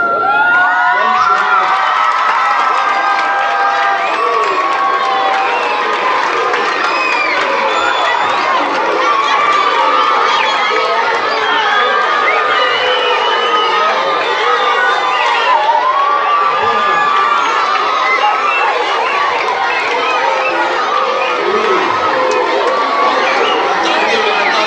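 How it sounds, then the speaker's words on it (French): Schoolchildren shouting and cheering in a large crowd at a school ceremony, a loud, dense, continuous roar of young voices, whoops and chatter lasting the whole stretch. "Maintenant, vous pouvez crier en remontant dans vos classes, mais en criant dans la discipline."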